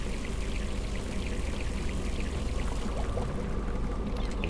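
Steady rain and stormy weather in a video game, a continuous loud wash of pouring water and scattered drops with no talk over it.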